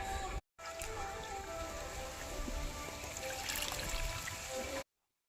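Water is poured around a rose plant growing in a sack, a soft continuous trickle and splash close by, broken by a brief gap near the start and ending abruptly.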